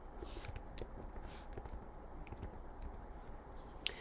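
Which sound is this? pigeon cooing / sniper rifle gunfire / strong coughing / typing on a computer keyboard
typing on a computer keyboard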